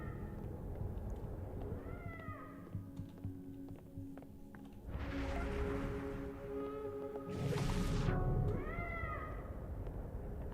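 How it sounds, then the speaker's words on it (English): A cat meows repeatedly at a door in the video game Life is Strange, several separate rising calls spaced across the clip, with two bursts of broadband noise in between and a low steady background. "There's a cat at my door."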